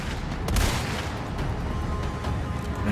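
A sniper rifle shot in Resident Evil 4 Remake: one sharp, heavy crack near the start, followed by continuous rumbling game ambience.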